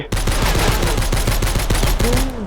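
Rapid gunfire from the She Will Shoot video game rattles out in a fast burst of about a dozen loud, close shots, ending abruptly with a short rising tone afterward.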